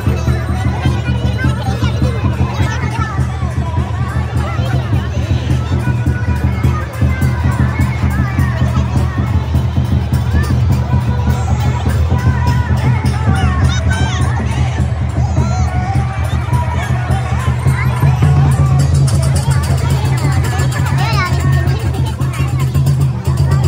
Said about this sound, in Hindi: यहाँ देखो कितनी ज़्यादा भीड़ है